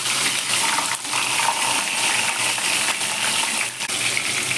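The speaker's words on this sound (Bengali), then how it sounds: "এবার আমি ওই তেলেই মাছের মাথাটা ভেজে নেব। খুব সাবধানে ভাজতে হবে, মাছের মাথা প্রচণ্ডভাবে ছিটকায়।" A fish head fries in hot oil while making muri ghonto, giving a loud, continuous close-up sizzle with dense crackling spatter and no talk.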